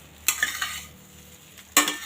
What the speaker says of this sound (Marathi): 2 मिनटं हे छान आपण परतून घेतलं आहे.